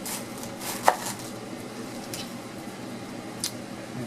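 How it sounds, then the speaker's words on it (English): A knife cuts around the core of a head of radicchio on a cutting board. Two or three soft, isolated chops stand out close by against quiet kitchen background. "the radicchio, I'm going to cut around this here"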